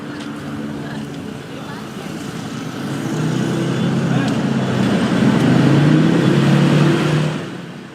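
Road traffic flows past at the Bundaran HI roundabout in Jakarta, a steady wash of engines and tyres that swells in the middle and fades near the end, with a voice talking over it.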